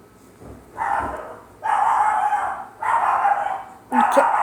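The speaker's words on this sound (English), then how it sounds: "They're barking at the cat." Dogs barking at a cat: drawn-out, wailing calls in three or four long bursts, nearby, sounding more like howling or baying than short barks.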